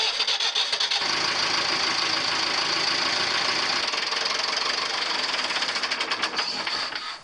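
A boat engine runs steadily up close, a loud, continuous mechanical chug with rhythmic knocking that carries on throughout without any voices.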